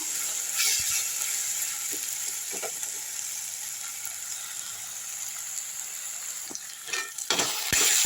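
Oyster mushroom masala sautéing in a pan, a steady close sizzle broken by scattered scraping stirs, with a louder burst of scraping near the end.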